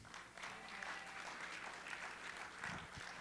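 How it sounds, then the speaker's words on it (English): Faint applause from a summit audience at a driving event, a soft, even patter of many hands heard from a distance for a few seconds. "So a huge round of applause goes to Tim."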